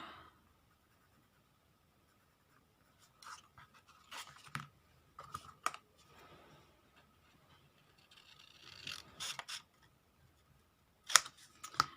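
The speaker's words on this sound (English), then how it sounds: "Hopefully I can cut it straight." Scissors cut paper in a quiet room, a few short snipping and rustling bursts separated by silent pauses, close and fairly faint.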